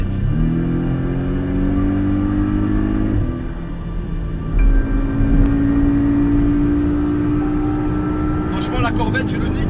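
A Porsche 718 Cayman S being pushed hard on a Dubai race circuit, the engine droning steadily with a shift dip partway through, heard from inside the car at constant loud volume.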